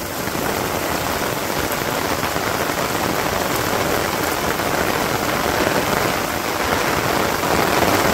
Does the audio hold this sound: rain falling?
yes